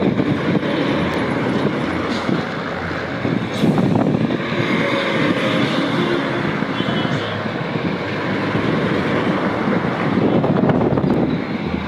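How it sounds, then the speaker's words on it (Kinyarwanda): A boat pulls away under steady, loud engine rumble and water wash, with wind buffeting the microphone throughout and no clear pauses. "ubwato ngubwo buragiye"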